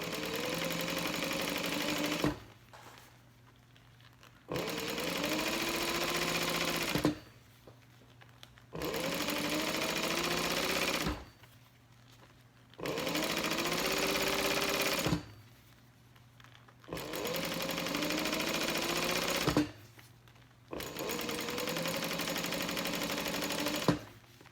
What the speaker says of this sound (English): we're going to sew our strap up